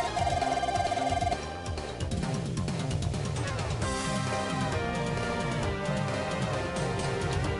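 A bell rings repeatedly in the Ys II video game, its bright chimes sounding over busy, rhythmic game music for several seconds.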